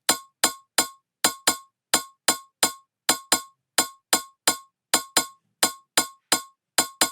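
A crisp, repeating Brazilian phonk percussion pattern of sharp metallic clinks in a steady rhythm, some hits closely paired, bright and dry with silence between strikes.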